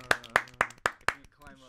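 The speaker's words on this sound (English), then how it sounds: "Give him a round of applause, ladies and gentlemen." Five sharp, evenly spaced hand claps ring out up close, then fade into a faint, quieter tail.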